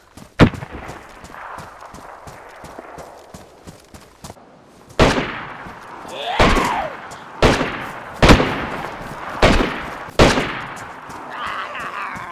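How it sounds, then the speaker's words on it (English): Several loud, sharp gunshots from a heavy firearm in the survival game DayZ on Deer Isle, roughly evenly spaced, each a sudden broadband crack with a short decaying tail, after a quieter ambient stretch with one earlier shot. "that sounds like a big gun"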